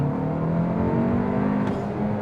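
A 2025 Hyundai Elantra N-Line accelerating hard in second gear under turbo boost, engine note climbing steadily, loud and close from inside the car.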